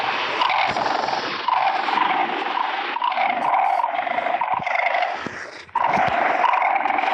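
In a Minecraft game, a loud, steady, rough growl from a dog-like creature rumbles on without pause, with one brief dip near the end.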